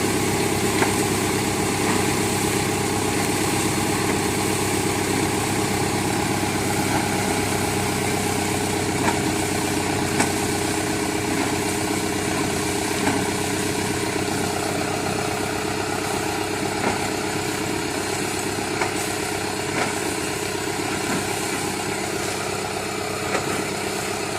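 An air compressor engine runs at a water well drilling site, a steady, loud mechanical drone with constant vibration and occasional faint clicks throughout.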